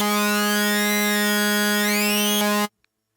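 A buzzy, harmonically rich UVI HX-ODDY synth tone with phase distortion holds steady, its timbre shifting slightly, then cuts off abruptly into silence.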